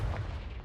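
A Confringo blasting spell explodes in Hogwarts Legacy: one continuous deep, booming rumble with a broad low roar that holds steady for its brief length, with no speech over it.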